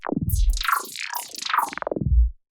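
A drum loop run through the Sharks Quantum Shift plugin, its hits swept into dense, downward-gliding pitch-shifted smears, moderately loud and continuous with a rhythmic pulse, ending abruptly.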